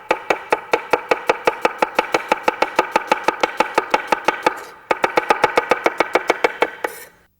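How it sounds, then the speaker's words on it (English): A knife chops an onion on a cutting board in fast, even strokes, about four sharp knocks per second, close and crisp, with one brief pause midway before the rapid chopping resumes. "Press down on the onion and keep this knuckle perpendicular to the board."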